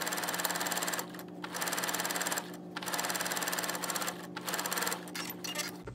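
A sewing machine sews at tension 10 and stitch length 3 in a steady, close mechanical whir, running in several bursts with short stops between them and no talking.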